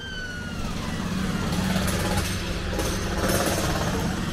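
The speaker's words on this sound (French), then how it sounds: "marteau piqueur et tout" A jackhammer pounds at roadworks in the street below a window in the morning, a loud continuous rattling roar mixed with traffic noise, no talking.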